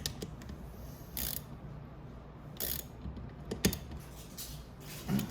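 A ratchet wrench tightens a bolt on the cover of a Venom 125cc engine, giving several close, short bursts of mechanical clicking with pauses between them and no talking.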